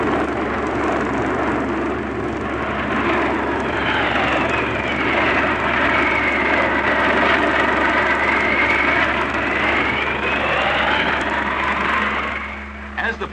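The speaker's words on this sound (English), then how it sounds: "Every year, the RAF's aerobatic teams put on 50 performances at air shows at home and abroad." RAF aerobatic team aircraft at an air show, c1960, pass overhead with a sustained engine roar that swells and fades across the sky, under a voice speaking.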